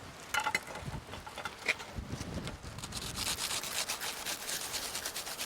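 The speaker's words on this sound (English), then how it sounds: "Good rubbing with the garlic." Garlic clove rubbed firmly over warm toasted bread, a dry, scratchy grating that repeats in uneven strokes, close and fairly quiet, growing steadier and brighter toward the end with no talking.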